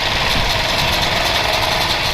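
Royal Enfield Classic 350 motorcycle running on its stock exhaust, a steady, dense, throaty engine rumble that stays loud and continuous throughout with no voices.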